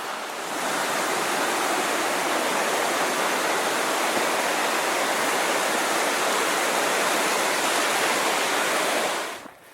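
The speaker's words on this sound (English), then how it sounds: "Little Qualicum River, 6 a.m." The Little Qualicum River rushes steadily at 6 a.m., a loud, dense, continuous roar of flowing water with no voices, constant from start to finish.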